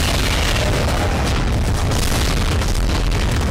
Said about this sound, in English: I should start shooting at him right away